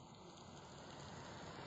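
Rain falls steadily outdoors, a faint, even hiss of drops without pause and with no voices.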